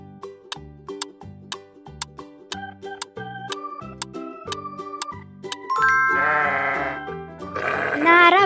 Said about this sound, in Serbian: Naravno, to je ovca.